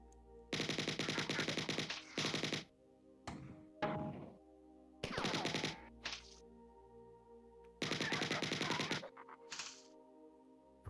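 Enforcer gun firing in the 1994 video game Marathon: loud, rapid bursts of automatic fire, four long volleys of a second or more separated by short gaps and single thunks, no talking.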